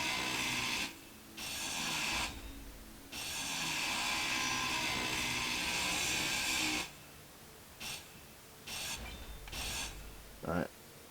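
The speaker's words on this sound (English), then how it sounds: "So small cargo container, grind down." In Space Engineers, a hand grinder grinds down a small cargo container, a loud continuous harsh rasping whir that runs in long bursts, stops, and returns in shorter spurts.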